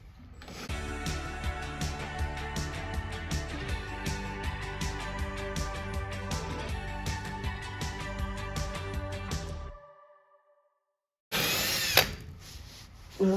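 A DeWalt 5/32 drill bit bores through a lower front fender bolt, a close steady motor whir with a rhythmic pulsing chatter for about nine seconds, then silence and a brief scraping burst.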